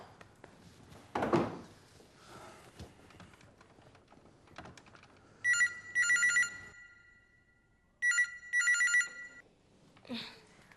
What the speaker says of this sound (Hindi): अवनी, विधि को फोन करो, कंफर्म करो इस बात को।